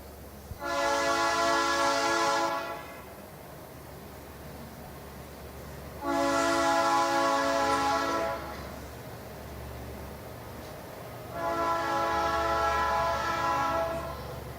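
A passing train sounds its horn in three long, loud, steady blasts of about two seconds each, separated by a few seconds of low rumbling.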